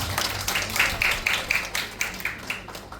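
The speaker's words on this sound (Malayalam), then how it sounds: "എല്ലാവരും നല്ല കൈയടി കൊടുക്കാമോ?" An audience at a first holy communion celebration claps along. Distinct, fairly regular hand claps come roughly four per second at moderate volume over a low room background.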